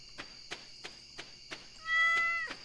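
A cat meows once in Stardew Valley, a short tonal cry near the end following a run of evenly spaced soft clicks over a quiet ambient bed.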